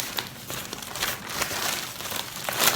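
A plastic bag around a pharmacy parcel crinkles and rustles up close, loud irregular crackling bursts continuing throughout with no speech.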